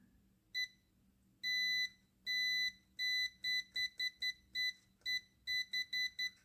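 Repeated electronic beeps from a Sanwa multimeter in continuity mode while probing a circuit board trace, a mix of longer tones and short quick chirps in an irregular rhythm, clear and close in a quiet room.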